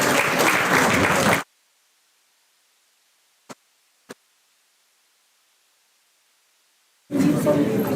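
Loud applause from an audience at an international conference, cut off abruptly into near silence broken by two small clicks, then a second burst of clapping returns at the end.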